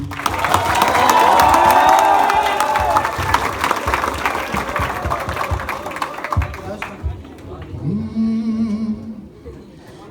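A crowd cheers and claps for a speaker at a youth venture event, with loud whoops and shouted voices over clapping that thins out, ending in scattered voices and a single held vocal tone.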